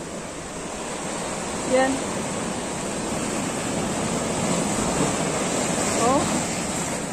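Rough ocean surf rolls continuously along a rocky shoreline, a loud steady wash with gusting wind noise on the microphone and a brief spoken word.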